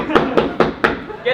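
Four sharp knocks on a door during a live improv stage scene, evenly spaced and fairly close, followed by a pause and a faint voice.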